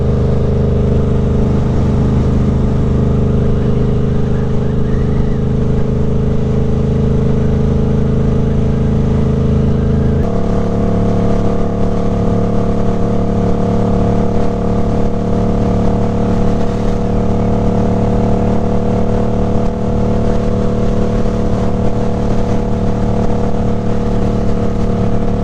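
A 2024 Suzuki GSX-8R motorcycle fitted with a Toce exhaust, heard while riding: a loud, steady engine drone with wind rush, holding a constant pitch before shifting to a new steady tone midway.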